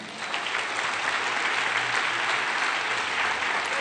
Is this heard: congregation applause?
yes